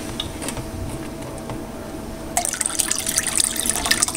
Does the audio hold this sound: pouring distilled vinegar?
yes